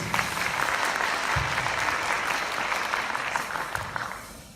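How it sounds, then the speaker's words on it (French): An audience applauds the association president at a student medical talk event, a dense, sustained round of clapping that stays even for several seconds before tapering slightly at the end. "applaudissez Abdelmalek Mohamed Anis."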